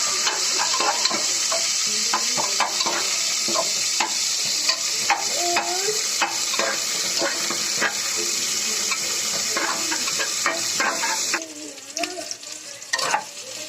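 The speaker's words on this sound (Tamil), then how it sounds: "கட் பண்ணிட்டு இருக்க ஒரு வெங்காயத்தையும் போட்டுக்கிறேன். இது நல்லா வதக்கிக்கலாம்" Chopped onion sautéing in a pan for tomato rice, a continuous close sizzle with repeated scraping and stirring strokes, quieting briefly near the end.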